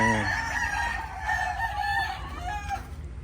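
Gamecocks crow repeatedly in a flying pen, loud and close, with overlapping cock-a-doodle-doo calls and a few clucks filling the short stretch.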